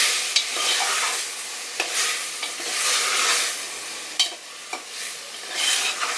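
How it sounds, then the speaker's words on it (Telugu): Tomato pieces cook in a pan for a bottle gourd curry, giving a steady soft sizzle with a spoon scraping and clacking against the pan every second or so, up close. "టమాటా ముక్కలు మంచిగా మగ్గనివ్వాలి."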